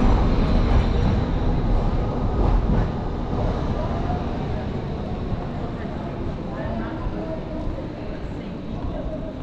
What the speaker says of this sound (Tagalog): Sasakay ka lang ng tren na yan